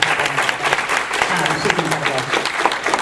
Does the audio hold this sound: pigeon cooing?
no